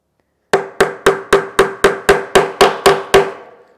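Ten sharp, evenly spaced hammer blows drive a nail into a wooden lap desk, each strike ringing briefly, close and loud with no talking.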